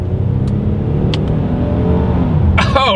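The engine of a 2023 Hyundai Palisade rumbles loudly and steadily from inside the cabin while paddle-shifted from second gear, the revs holding a continuous low drone with a brief higher burst at the end.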